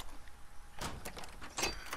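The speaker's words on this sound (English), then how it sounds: "Is this a shiv door?" A door clicking and sliding open in The Last of Us, a short mechanical clunk followed by a brighter rattling latch, close and moderately loud against a quiet game background.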